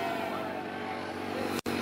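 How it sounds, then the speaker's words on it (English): An air compressor runs steadily, filling a t-shirt cannon at a pregame crowd event, its continuous broadband hum broken by one brief dropout near the end. "excuse the compressor that's juicing up and getting some air"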